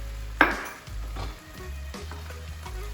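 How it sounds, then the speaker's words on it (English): Cumin and smoked paprika stirred into a sizzling mixture in a pan while cooking a roasted stuffed capsicum: a sharp clink of utensil near the start, then steady frying hiss with soft scraping stirs, close and moderately loud, no voices. "Give it a good mix around."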